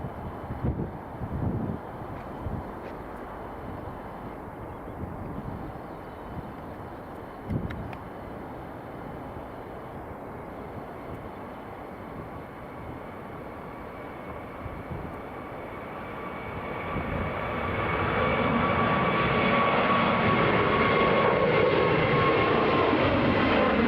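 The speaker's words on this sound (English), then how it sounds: "Okay, Turkish Airlines A321neo to Istanbul. Just rolling there." A Turkish Airlines A321neo airliner rolling along the runway, distant jet engine rumble building gradually into a loud, broad roar in the last third, with a few thumps early on.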